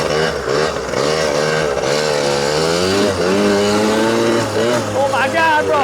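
A 40-year-old Yamaha Tri-Zinger three-wheeler's small engine buzzes loudly and close, its raspy pitch wavering up and down as the throttle is worked.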